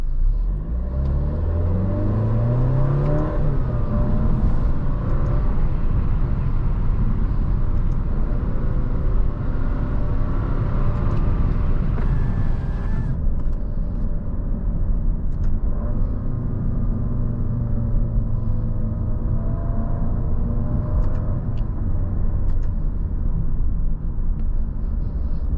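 A 2023 Alfa Romeo Giulia Veloce sedan driving in dynamic mode, its engine rumbling and revving steadily from inside the cabin, with rising and shifting engine tones and road noise throughout and no talking.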